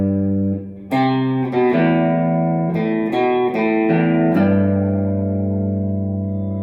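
Electric guitar plays the first half of a riff, a run of distinct picked notes with strong harmonics that ring out and sustain, close and loud, with reverb and echo on the tone.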